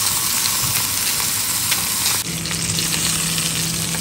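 Duck legs frying in hot oil, a loud steady sizzle and crackle that continues throughout, with a faint hum appearing partway through and no voices.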